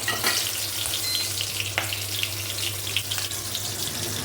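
Hot oil with black cumin seeds and green chillies sizzles steadily in a pan, a continuous close hiss with a few faint pops and crackles throughout.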